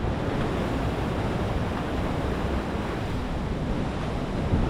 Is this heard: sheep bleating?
no